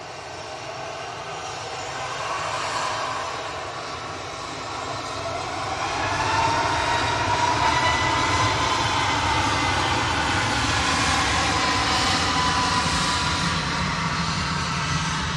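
A Ryanair airliner at Manchester Airport produces a heavy, swelling jet engine roar that builds midway and then holds loud and steady, a broad rushing rumble on a wet day.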